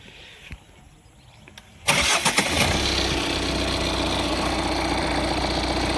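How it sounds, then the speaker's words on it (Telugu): Quiet room tone, then a 2023 Tata Altroz 1.5L diesel car engine cranks and catches abruptly, settling into a steady, loud diesel idle that continues to the end. No talking. "మీకు లైవ్లో ఇంజన్ అనేది కూడా స్టార్ట్ చేసి చూపిస్తా"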